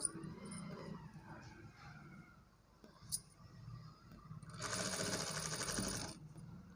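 A sewing machine stitches along a blouse back neck, with quiet fabric handling first, then a sustained whirring run of stitching near the end, fairly faint overall.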